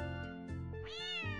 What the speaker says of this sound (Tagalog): Pusa naman talaga.